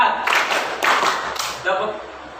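A group of participants claps a counted rhythm pattern in short bursts of hand claps, separated by brief pauses, while an instructor's voice talks over them.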